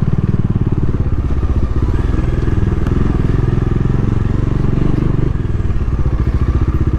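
A Bajaj Dominar 400 motorcycle rides an off-road trail toward Kaisdhar, its engine running loud and steady throughout, with a continuous low rumble and occasional clatter from the rough ground.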